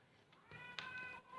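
A cat meows faintly a few times indoors, soft drawn-out calls at low level against a quiet background.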